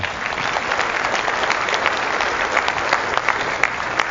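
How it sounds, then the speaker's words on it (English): Steady, dense applause from a seated audience at a business seminar, even and continuous for several seconds with no voices on top. "give them a round of applause for that"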